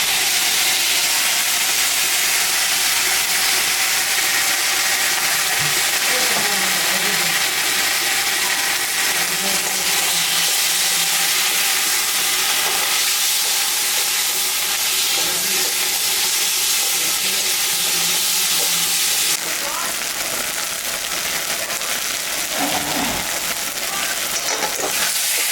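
A paste of ginger, cumin and dried chili sizzles in a hot pan, a steady loud hiss and crackle that runs through the whole stretch with faint kitchen clatter and no talking.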